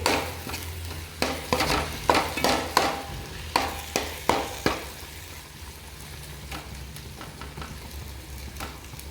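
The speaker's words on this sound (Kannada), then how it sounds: "ನೆಕ್ಸ್ಟಿಗೆ ರೆಡ್ ಚಿಲ್ಲಿ ಸಾಸ್, ಇವಿಷ್ಟು ಹಾಕಿ ತಿರುಕೊಂಬಿಡಿ" A spoon stirs chicken with red chilli sauce in a frying pan, giving a series of sharp scraping knocks over a steady sizzle. The strokes are bunched in the first five seconds, and after that a softer fry continues on its own.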